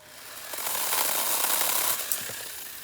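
A new chainsaw running in a garden setting, a steady, fairly quiet mechanical whir that builds after half a second, holds evenly for about two seconds, then eases slightly, with no talking.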